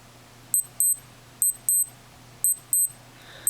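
Casio G-Shock Mudman G9000 watch alarm beeping in paired high electronic chirps, three double-beep bursts evenly spaced, clear and close over a faint steady room hum.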